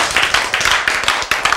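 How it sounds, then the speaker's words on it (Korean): Audience clapping in a church lecture on the prodigal son, a short burst of close, loud claps with uneven rhythm lasting about a second and a half. "박수 좀 해."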